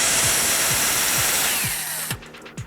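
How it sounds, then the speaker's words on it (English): A steady power-tool whir runs for about two seconds as a drill bores a pilot hole into a wood block, then cuts off abruptly, followed by a couple of faint knocks and clicks. "And now I can drill down in there."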